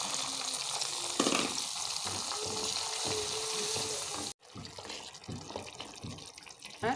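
Peppers, tomatoes, onion and garlic tipped into a moringa leaf stew, giving a loud steady sizzle and bubbling with a splash and stirring, then a brief drop and clattering, scraping kitchen sounds, no talking.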